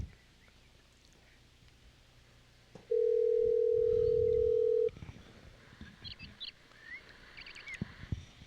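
A telephone dial tone sounds steadily for about two seconds while someone calls a person back, then stops, followed by quiet room noise and faint movement.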